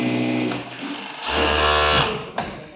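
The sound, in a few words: overlock machine sewing and cutting garment edge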